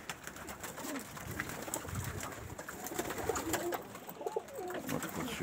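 Pigeons resting in a loft after a flight coo softly and repeatedly, with low throaty calls over steady background noise.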